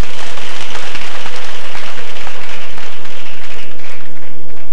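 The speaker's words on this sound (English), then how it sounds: "Let us give Baba a round of applause" A dense burst of applause from a crowd, loud and sustained with even clapping throughout.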